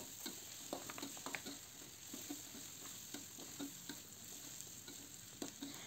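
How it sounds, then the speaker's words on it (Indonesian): Shrimp stir-frying in a pan with red chilies and bay leaves, a quiet continuous sizzle broken by rhythmic stirring scrapes and taps, no talking. "Kita tumis sampai udangnya matang."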